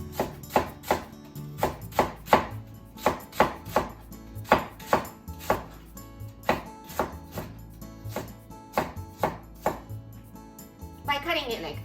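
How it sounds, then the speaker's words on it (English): A knife slices napa cabbage leaves into thin diagonal strips on a cutting board, sharp rhythmic chops landing about twice a second, close and clear, with a short rustling scrape of leaves near the end. "Take some leaves and cut into thin diagonal slices."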